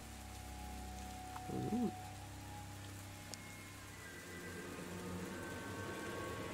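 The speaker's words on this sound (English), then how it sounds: "listen to the sound of the rain sort of pattering down on the deck of the boat" Rain patters steadily down on the deck of a boat, a soft continuous wash of drops that stays even throughout, with a brief spoken exclamation near the start.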